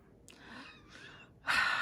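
A strained, raspy intake of breath with a whistling edge, followed by a louder harsh breathy exhale, close up with no talking.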